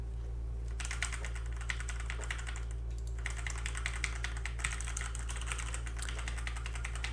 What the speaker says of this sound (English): I'll now type in random keys on my mechanical keyboard.